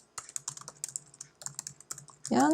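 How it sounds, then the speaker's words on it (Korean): Computer keyboard keys pressed, including Shift and Tab, in a quick string of close, crisp clicks, ending with a brief louder burst. "Shift 탭 키를 누르시면 돼요."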